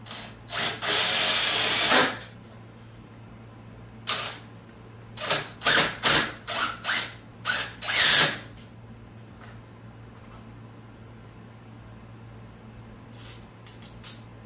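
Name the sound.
power drill driving long screws into wood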